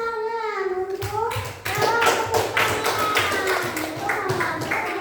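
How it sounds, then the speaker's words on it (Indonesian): Sixth-grade classroom clapping breaks out after a child's answer, a sharp burst of many small hands that settles into a rhythmic pattered applause, with children's voices and a teacher's voice briefly around it. "tepuk tangan"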